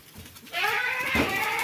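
Goats bleat on a farm where the herd is growing, a few overlapping calls close by, with a sustained cry rising after a brief quieter start.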